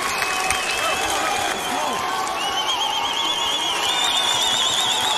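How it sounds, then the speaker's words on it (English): Crowd at a college basketball game in San Diego applauding and cheering, a loud sustained wash of clapping with whistles and shouts throughout. "the San Diego crowd stands and applauds the effort of number one"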